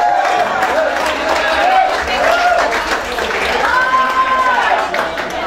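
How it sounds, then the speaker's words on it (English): A live club audience applauds a keyboard player during a blues band set, loud continuous clapping and crowd noise with some cheering, while sustained keyboard or instrument tones ring through underneath. "Big round of applause for my good friend Mr. Mike Malone on the keyboard."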